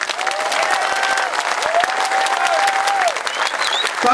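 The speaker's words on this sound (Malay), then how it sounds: "Tepukan gemuruh lagi sekali" A large crowd at a political rally in Shah Alam applauds loudly and continuously, a thick sustained roar of clapping with faint whistles and voices threaded through it.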